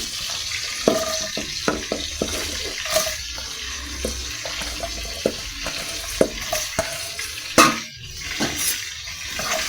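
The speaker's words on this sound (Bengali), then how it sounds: "ফোড়ন দেবো পেঁয়াজ আর রসুন।" Onion and garlic sizzle as they temper in a pan, with a low steady fry under repeated sharp scrapes and clicks of a spoon stirring, plus a splashy watery burst near the end.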